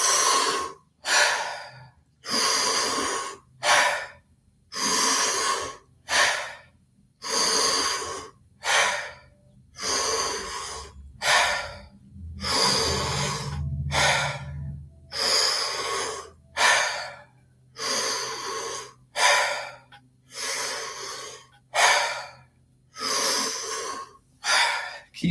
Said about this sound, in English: And again, right back into the breathing.